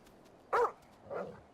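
A dog in the Grand Theft Auto 5 video game gives two short barks about half a second apart, the first louder and sharper and the second softer, with nothing else behind them.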